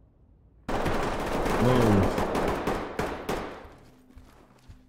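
Gunfire in the tactical shooter Ready or Not, a sudden loud run of rapid shots with a brief startled exclamation mixed in. Closing shots trail off into quieter echoes.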